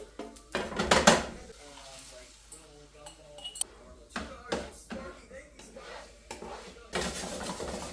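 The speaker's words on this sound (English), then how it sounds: "I'm just using a fork to mix this up." A fork stirs and scrapes browned taco meat with its flavoring in a pan, giving clinks and scraping taps in scattered bursts, with a person talking in between.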